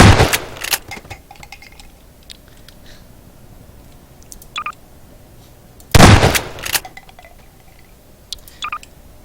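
Shotgun blasts in the Heroes and Generals video game: two loud, sharp booming shots roughly six seconds apart, each followed by brief metallic clicks and clinks of reloading against a quiet background.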